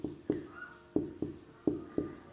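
Chalk or marker strokes on a board during a Hindi physics lesson on projectile motion, a series of short sharp taps and scrapes at an uneven rhythm, close and clear, with no talking.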